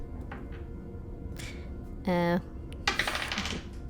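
Dice rattle and clatter briefly in a tabletop horror roleplaying game session, a short bright rolling burst followed by a scattered tumble, close by with faint background voices around it.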